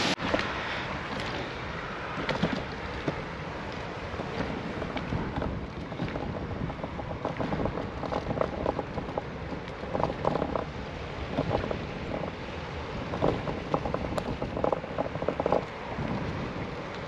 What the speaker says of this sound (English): And I've got a westerly headwind as well this morning.